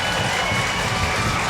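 A dense, steady roar of crowd applause and cheering fills a college ice hockey arena, sustained and loud throughout.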